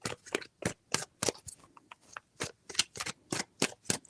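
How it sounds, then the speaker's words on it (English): Tarot cards are shuffled by hand in a quiet room, giving a series of quick, crisp riffling bursts at a fairly even pace, each a short papery flutter followed by brief pauses. "3 shuffles."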